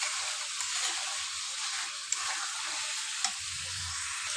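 Beef cooks in a pan for a Bangladeshi beef curry. A steady, bright sizzle holds throughout, close and fairly quiet, with a couple of tiny pops and a soft low rumble near the end.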